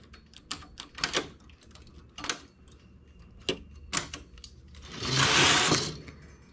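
A home knitting machine works a small cable stitch: sharp clacks and scattered mechanical clicks, then a brief louder whooshing rasp as the carriage slides across.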